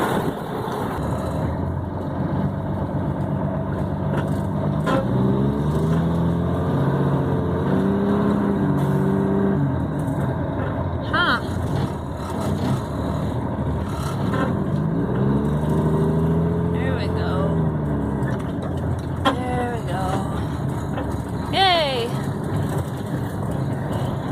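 A semi truck with a stuck trailer revs its diesel engine in long, loud rising and falling surges, close by and steady throughout, with people talking over it at times.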